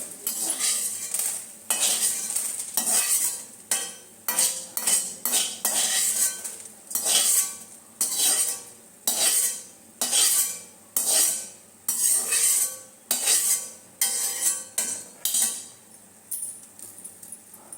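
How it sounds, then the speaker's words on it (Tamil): Roasted drumstick leaf powder mixture being tipped and scraped from a pan into a vessel, giving repeated metallic clinks and scrapes of a spoon against cookware in steady bursts, close by, with no talking. "இப்போது எல்லாம் சூடு ஆயாச்சு பாத்திரத்தில் மாற்றிடலாம்"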